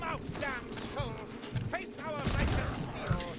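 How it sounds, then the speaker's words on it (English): Pistol fire from a bounty hunter character in a video game, quick repeated shots over a busy game soundscape while someone talks throughout. "the speed at which I'm firing them is even faster"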